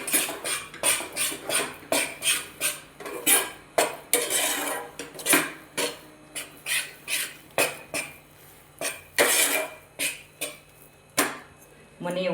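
A spoon scrapes and stirs continuously through a mixture roasting in ghee and oil over a low flame, making about twenty rhythmic, close metal-on-pan strokes at a steady pace.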